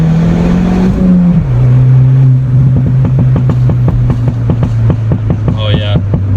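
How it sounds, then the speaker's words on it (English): A 2016 Ford Fiesta ST hatchback with a turbo pulls hard, its engine note dropping as it shifts into third gear, then a loud, steady drone with rapid rhythmic pulses climbs under a brief voice. "I got a little bit of torque steer shifting in the third right there"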